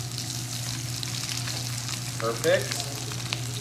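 Bacon frying in a pan for a seafood brunch, a steady close sizzle with a low hum underneath and a brief scrape of a spatula midway, briefly under a voice.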